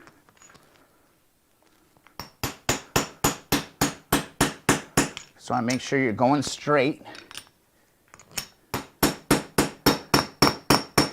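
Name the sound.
hammering bearing into motorcycle wheel hub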